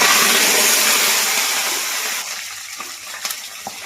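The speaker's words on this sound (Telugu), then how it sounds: "ఆయిల్ వేడయింది అలాగే పోపు దినుసులు రెండు మిరపకాయలు వేసేసానండి" A loud, steady sizzle of hot oil hisses close by as tempering spices, dried red chillies, cumin and curry leaves go in, then gradually fades, with a few sharp pops and crackles toward the end.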